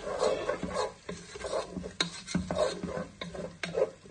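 A wooden spoon scrapes and stirs onions sizzling in a saucepan, with repeated sharp scraping strokes over a steady frying crackle.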